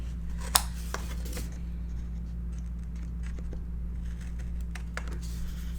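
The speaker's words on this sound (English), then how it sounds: "I'm trimming my corners." Scissors trim the corners of a scored, taped 7 by 5.5 inch paper piece for a Stamperia Winter Tales mini album, giving a few quiet, sharp snips over a steady low room hum.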